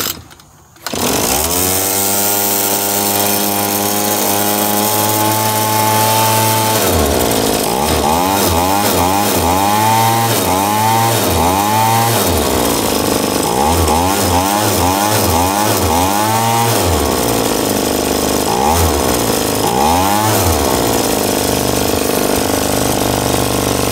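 A small engine run without its air filter and with low compression restarts on choke and runs loud and close, first at a steady idle, then revving up and down repeatedly in uneven surges.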